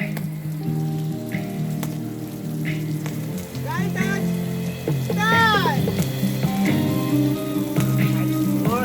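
Continuous hiss of artificial rain on a film set, like a downpour, with voices talking and calling over it and some whistling tones mid-clip.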